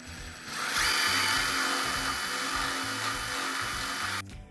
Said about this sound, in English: we'll drill a couple of holes in each side first, pilot holes